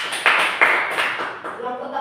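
Students in a classroom clap together in a brief burst of applause, rising in a couple of sharp surges before tapering off, with a voice speaking over it.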